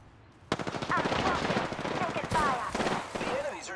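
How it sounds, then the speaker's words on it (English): Enemy gunfire in the video game Apex Legends erupts suddenly in dense automatic bursts, loud and continuous, with a brief break partway through. "The enemies are shooting at me."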